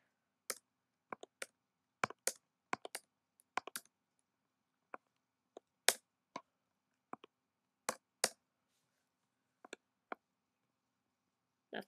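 Computer keyboard keys are pressed in scattered, crisp clicks, sometimes in quick pairs or small clusters, close and isolated against near silence.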